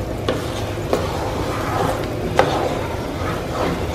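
A spoon stirs pecan candy around the sides of a skillet, a steady close scraping with soft sizzling underneath and a few sharper knocks against the pan, with no talking.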